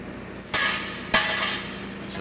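Two sharp hammer blows on an old anvil, striking a metal disc mower part, each ringing briefly with a metallic clink and spaced about half a second apart.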